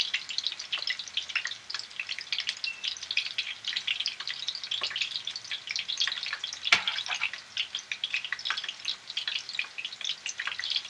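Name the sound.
meatballs frying in oil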